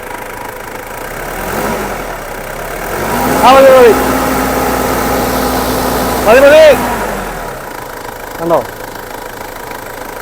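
A Toyota Fortuner SUV idles close by, its engine revved gently twice in smooth rising bursts before settling back, with a short blip near the end and someone speaking briefly over it.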